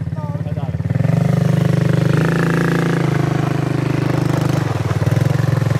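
A quad ATV engine idles and revs unevenly nearby, its throttle rising and falling while a person talks over it.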